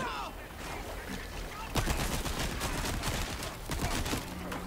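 Shots ring out in Resident Evil 4 Remake: several sharp gunfire cracks and rapid bursts over busy game background noise, with the loudest volley coming about halfway through.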